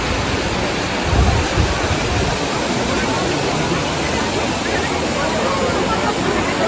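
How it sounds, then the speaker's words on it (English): Water splashing at the Trevi Fountain in Rome: a dense, steady rushing of falling water, loud and unbroken, with crowd murmur faintly beneath. "here we are at the Trevi fountain."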